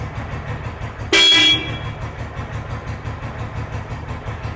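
Near a vintage motorcycle idling with a steady low rumble, a single loud horn blast lasts under half a second before the engine carries on alone.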